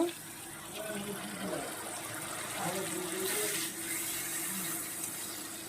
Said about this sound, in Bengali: এই পর্যায়ে আমি সামান্য একটু জল দেব